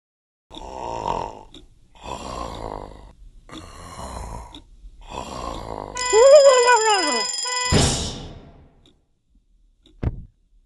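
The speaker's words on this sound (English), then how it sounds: "An alarm is a loud sound that tells you to do something, like move over for a fire truck or wake up to go to school." Cartoon-style alarm with four pulsing buzzy rings followed by a rising and falling siren wail, a sharp crash and a faint final knock.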